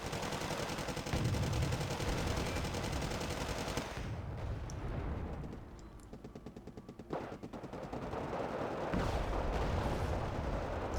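Tank and artillery fire in the real-time strategy video game Wargame Red Dragon, a dense, continuous barrage of rapid gunfire and booming shots, loud throughout with a brief lull midway.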